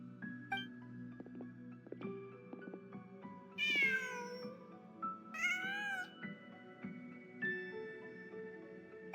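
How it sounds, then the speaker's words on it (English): Cat meowing in the Genshin Impact video game: several drawn-out meows and caterwauls, fairly close and clear, over a soft background of game music tones. "Just a cat."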